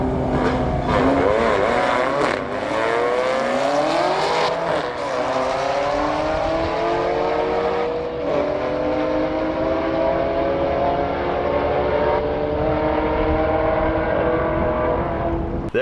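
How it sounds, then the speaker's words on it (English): Audi B8 S4 and a Camaro ZL1 1LE drag racing at a strip, engines roaring loudly and climbing through gears in repeated rising sweeps, close and sustained for the whole run. "There you have the final run of the day in my B8 S4 against my buddy John in his ZL1 1LE"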